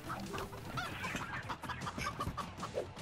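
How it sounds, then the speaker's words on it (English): A chicken in a furniture-removal video game clucks in a rapid, agitated string of short squawks, loud and close, with no talking. "let go of my chicken!"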